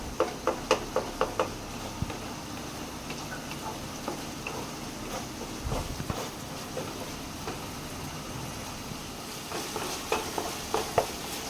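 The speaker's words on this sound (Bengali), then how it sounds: "মশলাটাকে আমি ভালো করে কষিয়ে নেবো।" A spice paste of turmeric and garlic fries in a pan for a Bhola fish curry, giving a soft, steady sizzle broken by scattered clicks and taps of a spoon stirring against the pan.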